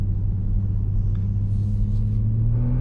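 A BMW M3 Touring G81 with a single midpipe exhaust idles or cruises with a steady, deep low rumble, continuous and close, with a slight rise in pitch toward the end.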